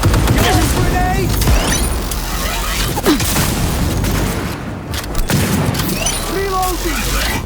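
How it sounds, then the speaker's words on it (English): Heavy booms and blasts from a Cyberpunk 2077 firefight erupt close and loud, with a big hit near the start and again near the end, mixed with debris clatter and shouted voices. "Grenade!"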